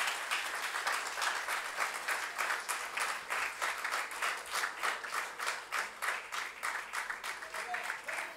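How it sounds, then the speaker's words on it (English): An audience claps continuously at a book unveiling event, with dense, steady applause that holds at an even level from start to finish and has no talk over it. "A big round of applause, please."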